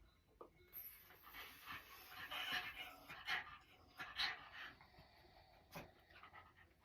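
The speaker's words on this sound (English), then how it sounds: "Hearing a little supping sound as it comes in through your tongue" A person draws cooling breaths in through the tongue during a relaxed breathing exercise, producing soft, airy hissing inhalations that swell and fade several times, close and fairly quiet, with no talking.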